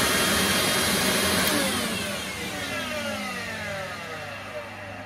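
An Electrolux Z Series 550 watt vacuum cleaner motor runs steadily with a slightly grindy tone, loud and close, easing a little lower as it continues, no speech.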